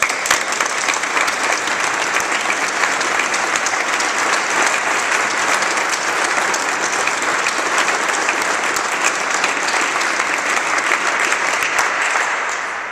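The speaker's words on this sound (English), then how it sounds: "I think he deserves a round of applause" A crowd at the Kentucky Governor's Awards in the Arts gives a long, sustained round of applause, loud and dense, holding steady for about twelve seconds before tapering at the end.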